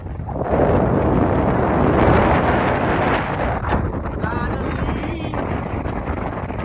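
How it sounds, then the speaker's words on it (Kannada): Strong wind on a hilltop road in the Male Mahadeshwara hills buffets the microphone in a loud, continuous roar that barely lets up, with no clear voices. "ಈಗ ಗಾಳಿ ಜಾಸ್ತಿ"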